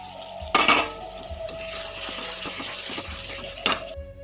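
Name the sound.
katla fish pieces added to spiced masala in a pan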